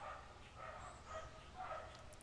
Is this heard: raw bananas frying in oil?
no